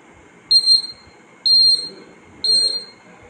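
Homemade obstacle-detecting smart glasses for the blind give three loud, high-pitched buzzer beeps, each lasting about half a second, spaced roughly a second apart over quiet background.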